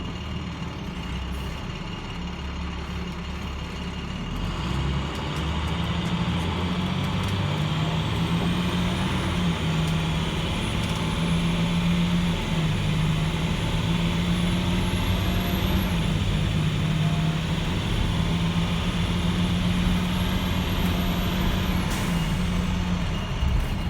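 Diesel vehicle on a test drive after a DPF regen with fuel injector cleaner, a steady loud engine drone and road rumble continuing throughout, with a faint high whine rising partway through and no talking.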